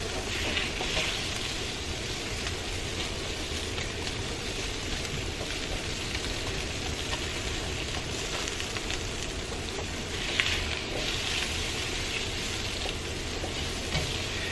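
Asparagus sizzling steadily in a pan over medium-high heat, a loud, continuous frying hiss with no talking.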